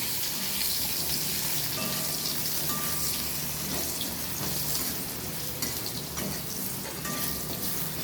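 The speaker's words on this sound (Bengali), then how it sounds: "আমি তো প্রথমে আলুটাকে ভেজে নিচ্ছি পনিরের জন্যে।" Potatoes frying in a pan for a paneer dish, a steady, dense, close sizzle that holds loud and unbroken throughout.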